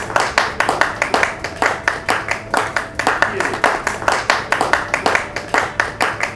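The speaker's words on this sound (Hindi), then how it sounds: "एक बार जोरदार तालियां फिर से" A studio audience claps for Aparajita Sharma in rhythmic unison, loud regular beats repeating steadily throughout, with no voices over it.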